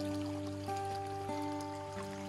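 Water trickles steadily from a spout on a rural farm in Goiás, Brazil, a soft continuous flow heard faintly under a constant background hum.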